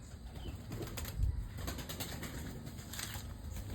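Brief fluttering of wings stands out against a steady background hum, a soft flapping burst near the middle.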